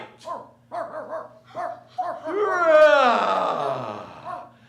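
A small dog barks in a radio drama, a run of short yaps followed by a long whining wail, close and clear, with a voice mixed in.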